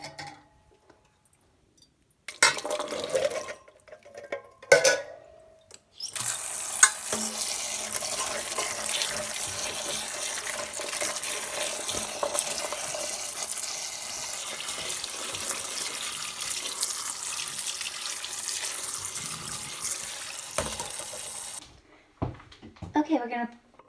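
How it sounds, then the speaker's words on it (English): Drained canned chickpeas are rinsed under a kitchen tap, a steady rushing stream lasting around fifteen seconds with a faint clatter, bracketed by brief bumps and handling noises before and after. "we're going to drain them and then rinse them with some fresh water"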